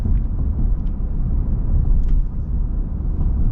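A pickup truck rolls over a short bumpy stretch of road, heard from the cabin as a steady deep rumble with a few soft thumps as the bumps pass.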